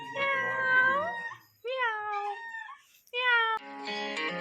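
A cat meows three times up close, drawn-out tonal calls separated by short pauses, followed by a brief burst of other sound.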